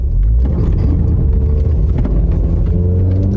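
A Jeep Cherokee Latitude with four-wheel drive labours up a hill at full throttle, a loud, dense, steady low engine drone with rumbling undertones, close and without speech.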